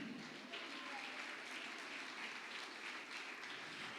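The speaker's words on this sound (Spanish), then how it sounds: "Denle un aplauso al Señor." A church congregation applauding during a Spanish-language sermon, a soft, steady wash of clapping heard from a distance and at low level, continuing evenly throughout.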